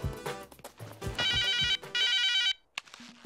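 A telephone ringtone rings in loud, sustained electronic bursts with brief gaps, starting after some low background sound and ending with a short quiet stretch.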